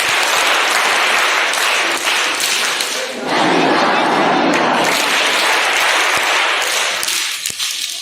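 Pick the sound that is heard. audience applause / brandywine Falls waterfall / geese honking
audience applause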